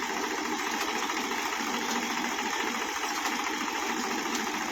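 A tractor crawling in creeper gear while pulling an onion planter, its engine a steady, even drone with a faint rhythmic knock that holds constant throughout, with no voices.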